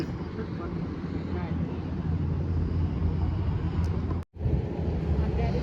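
A large tourist boat's engine rumbles steadily nearby on the Mekong River, low and continuous, with wind buffeting the microphone and a brief dropout near the end.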